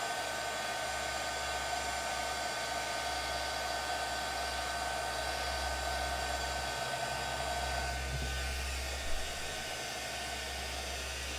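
Heat tool blowing hot air to reheat embossing powder on a Stampin' Up craft piece, a steady close whooshing hum with a constant low motor drone, running unbroken apart from a tiny knock near the end.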